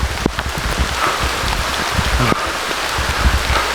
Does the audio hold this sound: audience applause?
no